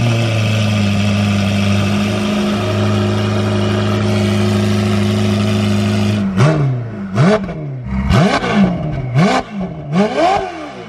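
Novitec-tuned Ferrari 488 Pista running with a steady, loud idle drone close by, then a series of sharp throttle blips rising and falling in pitch, each rev snapping back down.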